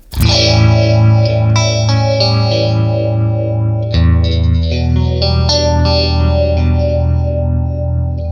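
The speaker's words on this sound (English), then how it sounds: "to me that sounds like a great phaser. So basically phase 90-ish." Electric guitar run through a Phase 90-style phaser on a TONEX FX with the rate turned up, playing sustained, ringing chords with a swirling sweep, loud and close with a fresh strum near the middle and no talking.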